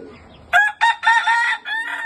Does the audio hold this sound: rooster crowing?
yes